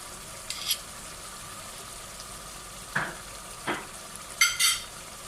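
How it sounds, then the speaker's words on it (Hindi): Whole spices, star anise, green cardamom and cloves, roasting in hot oil for matar gosht, giving a soft steady sizzle broken by a few sharp stirring scrapes and clinks. "अब इसको तकरीबन 10 मिनट तक ऐसे ही भूनना है आपने।"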